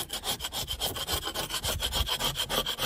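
A scraper drawn repeatedly over wood, lifting paint loosened by PeelTec stripper, giving quick rhythmic rough scraping strokes, close and steady with no talking.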